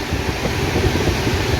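The 12881 Garib Rath Express runs toward Kolaghat bridge, a brief loud, steady rumbling roar of the moving train mixed with rushing air.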